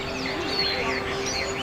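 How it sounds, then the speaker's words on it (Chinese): Caged songbirds hung from tree branches in a city park chirp and warble in fluttering overlapping phrases at moderate distance over a faint steady background hum. "一时间，公园里的鸟鸣声此起彼伏"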